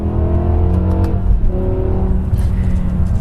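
A 2007 BMW E63 M6's 5.0 V10 revs with a loud, close, smooth rising growl, the engine note sustained throughout with shifting pitch and no talking.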